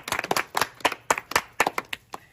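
A small group of people clap in quick, uneven bursts, a dozen or so sharp claps close by with brief gaps between them.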